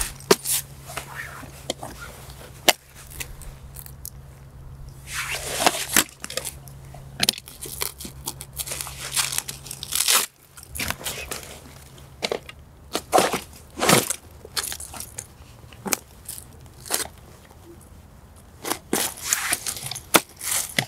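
A bolt cutter is worked into a zip-on pouch panel, giving a series of close rustling, scraping and clacking handling noises of fabric, zipper and metal tool, irregular and intermittent over a low hum.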